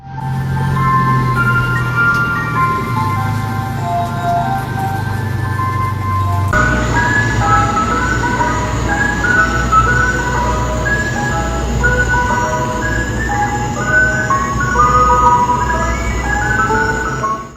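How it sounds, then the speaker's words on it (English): An ice cream truck creeps through night streets playing its tinkling chime melody, the tune looping steadily and loudly over a low vehicle rumble, with a shift in the music partway through. "videos began to appear of ice cream trucks, creeping through streets at night, their music playing long after children should be asleep"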